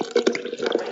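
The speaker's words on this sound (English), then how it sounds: "Turn the high-pressure hoses on." Water bursting from high-pressure hoses as a radio comedy sound effect, a short close run of splashing, gushing spurts.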